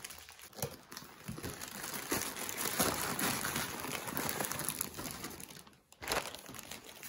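Crinkly plastic packaging rustles and crumples steadily as a diamond embroidery kit is unpacked, a close, continuous crackle that drops briefly near the end before resuming.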